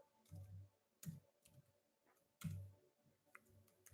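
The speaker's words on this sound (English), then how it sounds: "my typing skills are getting bad" Keys on a computer keyboard are tapped in a few short, soft bursts with pauses between them, close and quiet in an otherwise silent room.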